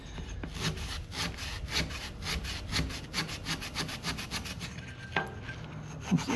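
A Scotch-Brite pad scrubs a beat-up C.T. Ham No. 2 cold-blast lantern with a copper fount, making fast, steady back-and-forth rasping strokes close by, with an occasional metallic knock.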